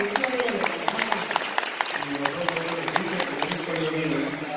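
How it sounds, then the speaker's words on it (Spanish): Applause fills an awards ceremony hall, a dense, steady clapping from the audience with sharp individual claps standing out, while a voice speaks over it. "esta noche vamos a darle un fuerte aplauso a Cristian Navas"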